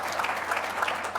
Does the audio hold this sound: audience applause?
yes